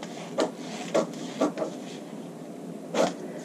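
Scissors snip through a paper pattern for a kimono bodice facing in short, close crisp cuts, four or five spaced strokes over a quiet room.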